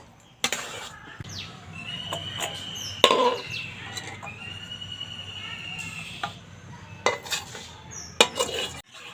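Elephant apple (chalta) pickle is stirred in a pot, with intermittent metallic clinks and scrapes of a spoon against the vessel, some sharp and close, over a quiet background.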